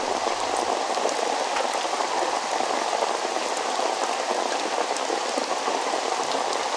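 Steady rain pours down outside a small shop during a sudden downpour, a dense, even hiss with continuous spattering that holds at the same loudness throughout, with no voices heard.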